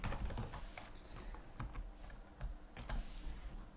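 Steady clatter of typing on a computer keyboard while writing HTML code, quiet and close, with irregular rapid key taps throughout.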